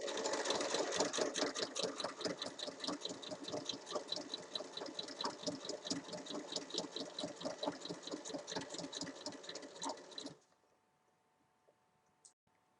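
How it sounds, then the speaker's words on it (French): A sewing machine topstitches 1 mm along a zipper in a fast, even run of stitching clatter for about ten seconds, close and clear, then stops abruptly into near silence. "je vais venir faire une surpiqûre à 1 mm tout le long de la fermeture"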